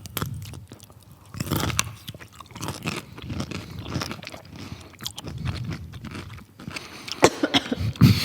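Someone bites and chews crunchy bread and butter pickles close to the microphone, with repeated wet crunches and chewing sounds in an uneven rhythm, loudest toward the end.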